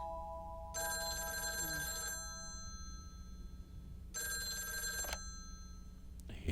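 Telephone bell rings in two long electronic trills separated by a pause, clear and fairly close over a quiet low hum, with a short sharp knock at the very end.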